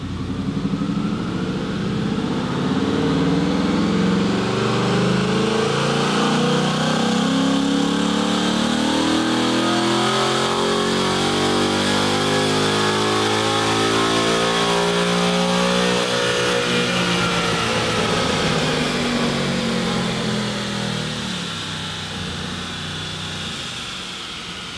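A Ford Mustang with a ported intake manifold roars continuously on a dyno, the engine note climbing steadily through a long full-throttle pull and easing off at the end, loud and close throughout.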